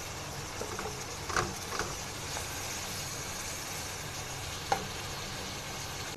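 Quail fry in oil in a karahi with a steady hiss and crackle, broken by a few louder spatters and faint stirring scrapes, and a low background hum beneath it.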